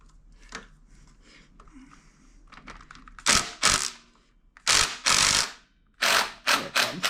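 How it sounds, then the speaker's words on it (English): A chisel works a folded locking tab on a Kawasaki KE100, giving sharp metallic scrapes and clicks in uneven bursts, close and moderately loud, with several louder strikes near the end. "I'm gonna use a chisel and unfold it"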